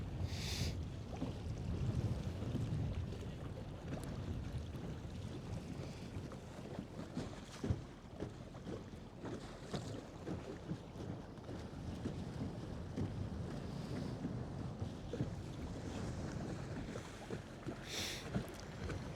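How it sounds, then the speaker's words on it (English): Gusty wind buffets the microphone at a lake during a fishing tournament, a steady low rumble with soft water and boat sounds underneath and no talk. "The wind has kind of picked up a little bit more."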